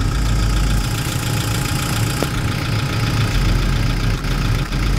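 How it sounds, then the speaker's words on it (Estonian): A Volkswagen car idles at a car meet, a steady low engine rumble that holds close and fairly loud throughout, with no voices over it. "Tule tagant tuleb mingi Volks"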